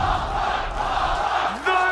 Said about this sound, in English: crowd is electric.